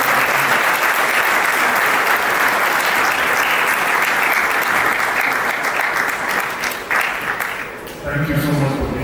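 Loud, sustained audience applause fills a matriculation ceremony hall, dense clapping throughout that dips briefly near the end before swelling again.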